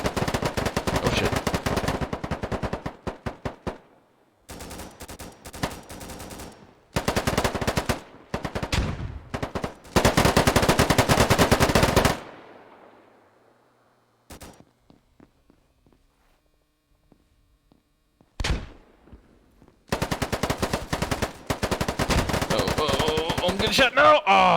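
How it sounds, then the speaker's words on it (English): Bursts of automatic fire in the low-poly tactical shooter Poly, loud clattering volleys broken by short silences, single cracks and pauses, with no voices over the shooting. "I'm getting shot."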